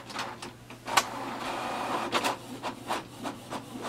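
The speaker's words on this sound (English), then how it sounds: "Now press this green button, as you can see it is a start button, and it will send a command and then it will print." A Canon Pixma TS6351 wireless printer makes a copy, giving off a series of mechanical clicks, whirs and sliding rasps in an uneven rhythm close by.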